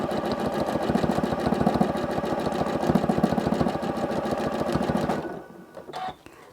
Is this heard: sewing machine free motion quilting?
yes